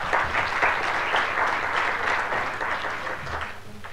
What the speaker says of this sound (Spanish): También la vamos a recibir con un fuerte aplauso.